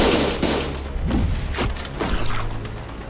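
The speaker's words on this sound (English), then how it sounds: "A loud explosion left Dan Quixote dismembered where she stood." Loud explosion in the video game Limbus Company: a heavy booming blast with layered crashing impacts and rumbling debris bursts, dense and close, with no voices over it.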